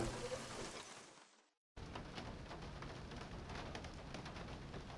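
Steady rain patters on a roof in the game Syberia, a soft, even hiss that fades out, breaks for a moment, then returns at the same level.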